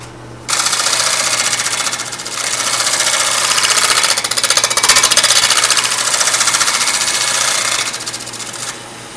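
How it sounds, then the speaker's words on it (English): A scraper works across a cottonwood burl bowl spinning on a wood lathe, giving a loud, steady, buzzing rasp that starts abruptly and runs continuously for several seconds. "I'm going to go back to my scraper and just clean this up in preparation for sanding"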